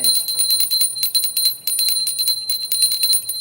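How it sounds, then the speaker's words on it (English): A small bell rings rapidly and repeatedly up close, bright metallic dings in quick bursts with a short pause midway. "We gotta ring that bell on that."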